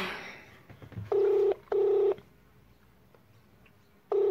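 A phone rings on an outgoing call, with three loud, evenly spaced ringback tones heard close and clear over quiet background.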